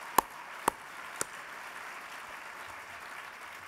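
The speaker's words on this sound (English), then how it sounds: "So let's give them a round of applause again." Faint, thin applause from an audience at an awards speech, with a few sharp close claps standing out early over a soft background patter.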